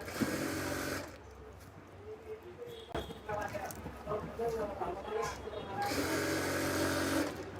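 A sewing machine runs in short bursts while stitching elastic into palazzo pants, a steady whirring at the start and end with someone talking over the quieter middle stretch.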